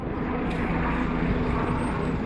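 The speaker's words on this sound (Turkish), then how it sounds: "Onlara helikopterlerle hava polisleri eşlik etti." Police helicopters fly overhead during a police anniversary event in Istanbul, a loud continuous rotor and engine roar that fills the whole stretch with no break.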